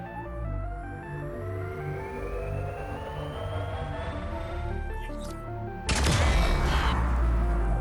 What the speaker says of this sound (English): Did you hear something that sounded like a big far-off explosion?